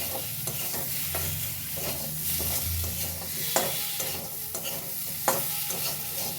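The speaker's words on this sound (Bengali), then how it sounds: "ভালোভাবে নেড়ে নেব।" Spices with cumin powder sizzle in a hot pan while a spoon stirs and scrapes through them, giving a steady fry with repeated scraping strokes and a few sharp clinks against the pan.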